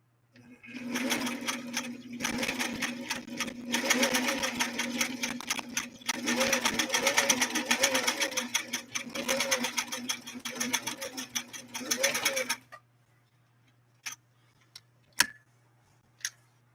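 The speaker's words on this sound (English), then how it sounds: "zigzag on this commercial upholstery style material." Singer Stylist sewing machine zigzag stitching commercial upholstery-style material, a steady loud rhythmic whirring and clatter for about twelve seconds, then stopping, followed by a few faint clicks and sharp ticks.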